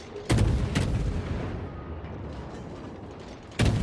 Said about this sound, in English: So he can open up with his guns here